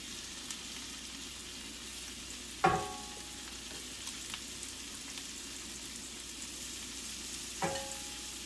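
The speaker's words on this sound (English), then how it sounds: "We're going to place our shrimp in here and get going." Shrimp fry in butter in a pan with a quiet, steady sizzle and two distinct clinks of utensils against the pan, nearby but faint, and no one talks.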